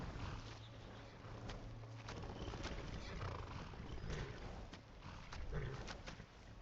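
A war horse neighs and snorts in The Elder Scrolls V: Skyrim Special Edition, with hoof clops and ambient game sound at low, fairly even volume.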